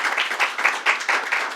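Audience applause breaks out at a governor's public announcement event, a steady patter of many hands clapping with rhythmic swells, fairly close and loud, with no talk over it.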